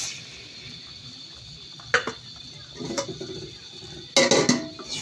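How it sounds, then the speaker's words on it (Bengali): Semolina roasting in two spoons of ghee in a kadai over medium heat, stirred with a spatula: soft intermittent scrapes and light metallic clinks at a slow, uneven rhythm over a quiet background hiss. "সুজিটা আমি নেড়ে চেড়ে ভেজে নেব।"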